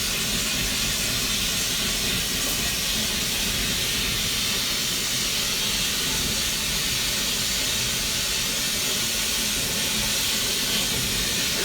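Torch flame roaring steadily while preheating the ricasso of a steel chef's knife at a forge, a continuous close, loud broadband hiss with no talk.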